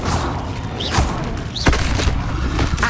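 A fire spell cast in Hogwarts Legacy, a video game, bursting in a few loud whooshing thuds with rising magical swishes, set against a busy game soundscape.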